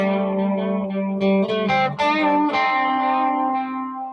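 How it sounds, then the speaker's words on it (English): Electric guitar played through heavy distortion, sustained chords and notes ringing one after another with a thick, fuzzy, reverberant tone, loud and alone. "I'm just playing around. I usually don't put that much distortion on it."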